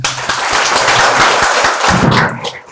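An audience at a nursing college convocation claps together, a dense burst of applause that swells and then fades out near the end, with no voices over it.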